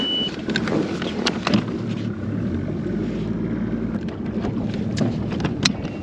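A bass fishing boat running to the next spot with its trolling motor pulled up, producing a steady engine drone mixed with rushing wind and water noise and occasional knocks, with no talk.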